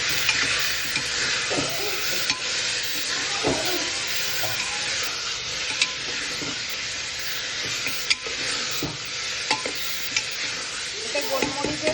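Chicken pieces fry lightly in a salted pan for a baby's chicken stew, giving a steady close sizzle broken by scattered clinks and scrapes of stirring.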